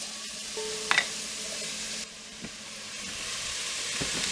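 Onion added to a pot with other vegetables for cabbage soup, sizzling steadily in hot fat with a few clinks and stirring sounds, close and moderately loud.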